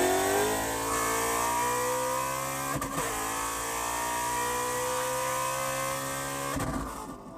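A 950hp Shelby GT350 pulls hard from 100 to 150 mph, its engine note climbing steadily in a loud, rising roar, broken by two brief gear-shift dips before it revs on again.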